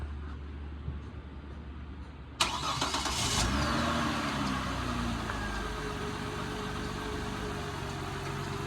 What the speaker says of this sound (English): And so then we're about to turn on the car.